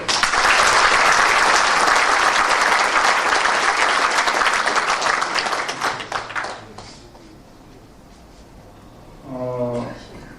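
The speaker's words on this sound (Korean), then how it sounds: "좀 크게 박수 주십시오" Audience at a morning lecture gathering applauding a high school principal, a loud dense burst of clapping for about six seconds that tapers off, followed by a brief spoken voice near the end.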